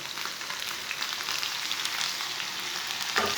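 Chicken fries on a tawa after chopped tomato is added, a constant bright sizzle up close with small spattering crackles and a stirring clatter near the end, no one speaking.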